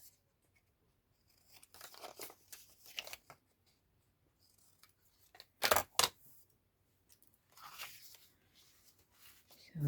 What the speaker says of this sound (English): Now I'm gonna cut these ends in angle.